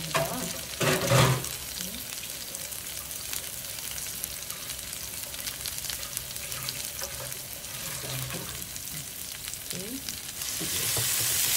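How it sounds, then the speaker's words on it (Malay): Continuous crackling sizzle of sambal frying in a wok for Sarawak laksa, with occasional stirring scrapes and a brief louder burst near the start. "So, kita gorengkan sambal."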